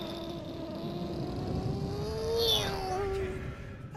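A cat in the video game Final Fantasy XV gives a drawn-out, rising and falling meow over a steady hum of game background noise.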